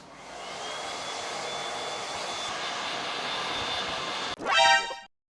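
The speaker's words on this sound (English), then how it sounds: "let's do the blow dry." Hair dryer blowing on hair for a home Korean two-block haircut, a steady close airy roar lasting several seconds, then a brief higher whine as it powers down and cuts off to silence.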